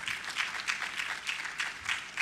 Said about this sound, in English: You have to clap for her.